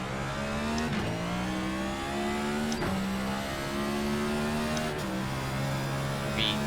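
A NASCAR Cup car engine in the iRacing simulator at Sonoma, revving up steadily in repeated rising pulls with gear shifts roughly every two seconds, heard constant and close from the cockpit.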